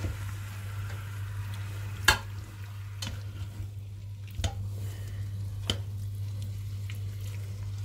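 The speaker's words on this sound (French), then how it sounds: "Voilà, donc moi je vais la laisser cuire, la laisser dorer." Veal pieces for a blanquette browning in a pan, giving a steady soft sizzle with a few sharp clacks and scrapes as the meat is stirred and turned.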